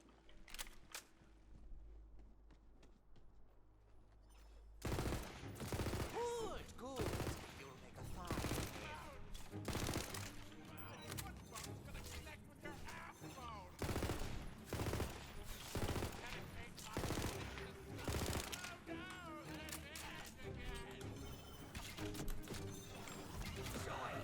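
Rapid bursts of gunfire in the fantasy shooter Tiny Tina's Wonderlands, starting after a quiet opening with a faint hum, then repeated loud shots and crashes over game music.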